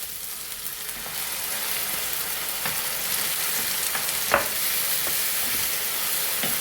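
Tomato puree sizzling in a hot pan with sautéed ingredients while making pasta, a steady close hissing fry with soft stirring scrapes and a distinct clink partway through.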